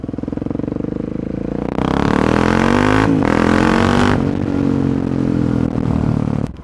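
A Husqvarna 701 motorcycle fitted with a loud GPR exhaust runs close by, idling with a rapid steady thump before revving up hard into a loud, sustained engine roar that rises in pitch and then cuts off.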